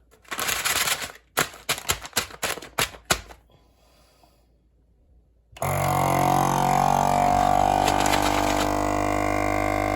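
A vacuum sealer machine's loud, steady mechanical whir starts partway through and runs continuously while sealing Mylar bags, preceded by a burst of sharp clicking and rattling handling noises.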